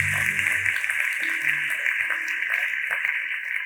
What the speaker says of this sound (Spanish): diga amén y denle un aplauso al Señor.